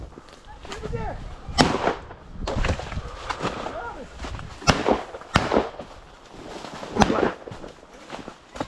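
Shotgun blasts during a turkey hunt in Iowa, several sharp reports fired at irregular intervals, some near and some farther off, over outdoor rustling and movement.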